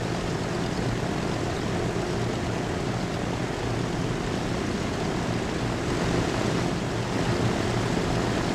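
A propeller airplane drones in a constant, loud, unbroken hum throughout, as in the Transport Fever 2 video game, with no voices.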